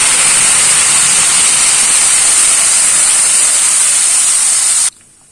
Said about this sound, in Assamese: আদা নহৰু বিলাহী আৰু কাজুৰ পেষ্টখিনি ভালকে ভাজি লম